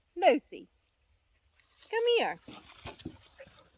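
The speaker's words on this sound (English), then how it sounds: "hear our dog." A pet dog outdoors near a garden with cucumbers, wet after running around, gives a couple of short close yips or whimpers, heard among people talking and calling to it.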